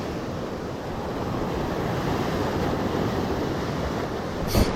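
Wind blows across a rocky seashore during fishing, a steady broadband rush mixed with surf, constant and fairly loud, ending with a short buffet against the microphone.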